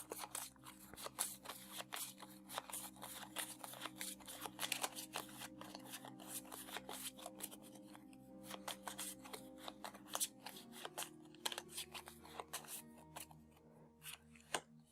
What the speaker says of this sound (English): I'll shuffle this, and then randomly grab one